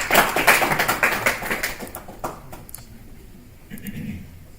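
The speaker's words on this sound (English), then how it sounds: "Round of applause for Shane." Audience at a DefSec security talk on defending OpenSSH applauds a speaker, a dense burst of clapping that fades after a couple of seconds into quieter room noise with a few stray claps.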